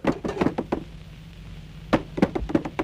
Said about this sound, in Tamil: எங்க கதவு தட்டது யாருன்னு சொல்ல மாட்டீங்களா